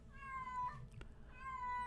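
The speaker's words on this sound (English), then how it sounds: "I'm really sorry about my cat in the background." A house cat meows twice indoors, two drawn-out tonal cries separated by a short pause, fairly quiet against a faint background.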